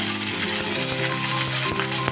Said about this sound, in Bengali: রসুন দিয়ে দিলাম এবং কাঁচা লঙ্কাগুলোকে আমি দিয়ে দেবো ভালো করে ভাজা করে নেবো